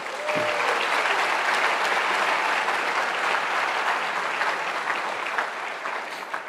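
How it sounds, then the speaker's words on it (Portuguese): Congregation in a church service applauds, a dense, sustained wash of many hands clapping at once, loud and even, tapering slightly toward the end. "Vamos aplaudir ao Senhor,"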